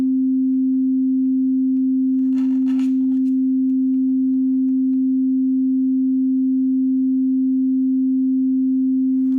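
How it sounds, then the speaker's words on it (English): A steady pure test tone plays through headphones, one unbroken pitch holding at constant level for the whole stretch, with faint rustling handling noise briefly in the background. "Now I need to start the tone."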